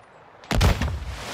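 A single heavy explosive thump erupts close and loud after a brief rising hiss, then rumbles away, as a thrown grenade detonates in a multiplayer shooter.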